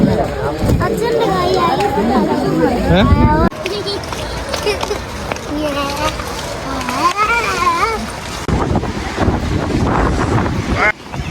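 Wind buffets the microphone with a steady roaring rush at Doddabetta Peak in Ooty, while people talk over it, some voices sounding like children.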